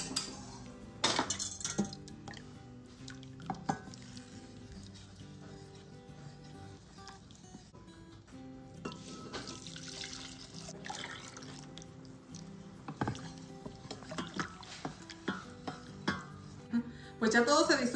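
Dissolved gelatin being stirred into hot water in a pot, with a spoon scraping and clinking against the metal sides in scattered bursts over a soft liquid swish, heard close and without talk.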